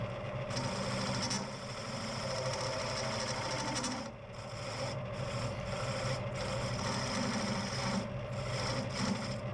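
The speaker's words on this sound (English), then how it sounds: "It's my homemade carbide tool now, just putting a finishing cut ish on that centre boss" A homemade carbide tool takes a finishing cut on the centre boss of an incredibly tough wooden bowl turning on a lathe, giving a steady, close scraping rasp over a continuous motor hum, with short breaks as the tool lifts off.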